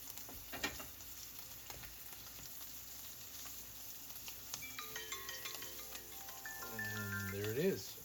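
Steak searing on a hot griddle, a faint continuous sizzle under quiet background noise, with a ringing electronic tone rising near the end.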